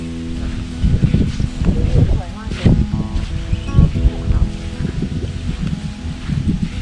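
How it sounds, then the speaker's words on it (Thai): Strong wind rustles leaves on a rubber-tree farm in Thailand, a gusty swishing under close conversation between people. "ลมแรง"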